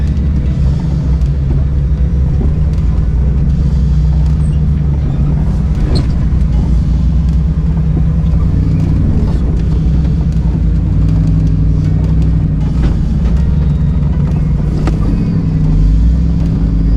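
Off-road vehicle engine working steadily as it climbs rock ledges on the Steel Bender trail in Moab, a loud continuous low rumble from inside the cab with occasional knocks and creaks, with faint talk underneath.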